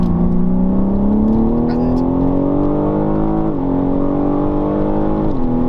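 A BMW M3 Competition engine in Sport Plus mode revs steadily upward with a rising whine, then drops briefly twice as gears shift via paddles, loud and continuous throughout.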